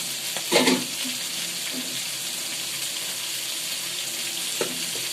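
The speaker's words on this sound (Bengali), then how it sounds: "আগে মাছ ভাজি করা হচ্ছে" Fish fries in hot oil with a steady, loud hiss and sizzle, broken by a few sharp spatters and clatters near the start and again toward the end.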